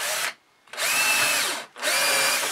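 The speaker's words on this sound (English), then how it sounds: "So we're going to drill the first hole" Power drill with a 3 mm bit boring a hole in wood on an old workbench: two close, loud bursts of high whirring separated by a short pause, with no talk.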